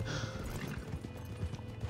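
A video game horse gallops, a rapid steady clip-clop of hooves running throughout, close and fairly quiet, with no talking.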